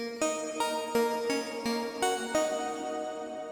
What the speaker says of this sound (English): I landed on this preset here in Vital, which is the distant majestic lead